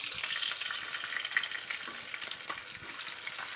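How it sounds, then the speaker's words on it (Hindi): Onions frying with cumin in a pan over high flame, a steady dense sizzle and crackle at moderate level throughout. "इसमें मैंने अपने जो प्याज है वो डाल दिए"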